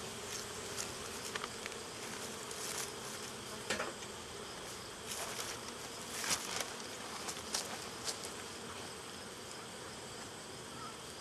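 Honey bees in an open backyard hive, the colony feeding on honey, give a steady low insect hum with brief louder buzzes as single bees fly close past, heard alone without talk.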